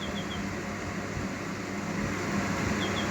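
A Sunbeam water evaporation cooler being checked for a fault runs its motor steadily, a constant broadband whir and hum with a low rumble, even and unbroken throughout with no talk over it.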